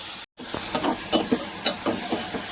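Fenugreek leaves frying in oil with green chillies, turmeric and salt, a soft steady sizzle broken by a brief cutout and a few light scrapes of stirring.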